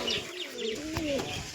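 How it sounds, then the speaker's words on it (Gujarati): Domestic pigeons perched together give soft, rolling coos, several gliding calls overlapping at close range, with faint chirps in the background. "આપણા બધા કબૂતર બેઠા છે"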